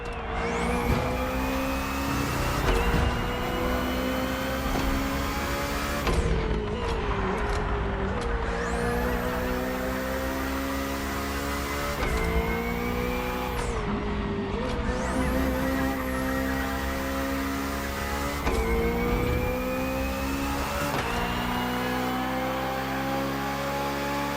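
A BMW hybrid V8 race car engine in The Crew Motorfest drones loudly and steadily, its pitch climbing through the gears with brief dips at each shift, alone without talk.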